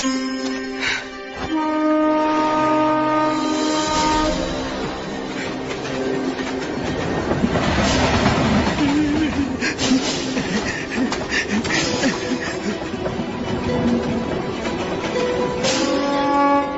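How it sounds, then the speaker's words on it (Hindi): A train pulls away on its rails with a rhythmic clickety-clack of wagon wheels over the joints and some metallic squeal, loud and continuous beside a station platform in an Indian movie scene. "ट्रेन चल पड़ी।"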